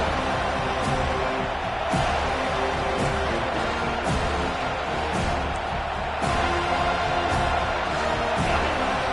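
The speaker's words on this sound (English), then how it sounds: "Decibels rising as the crowd gets behind this defense on third down." A football stadium crowd roars steadily behind the home defense on third down, a dense continuous wall of cheering noise with occasional sharper whoops and thuds, lightly overlaid by a commentator's voice.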